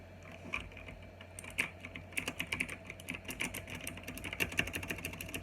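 Someone types on a Qisan Magicforce 68 mechanical keyboard, producing rapid, irregular clusters of sharp clicky keystrokes, close and distinct, over a faint low background hum.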